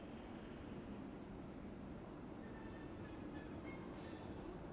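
A speeding train in the VR video game Medal of Honor: Above and Beyond rumbles along in a continuous low roll of wheels and carriages, fairly faint and steady throughout.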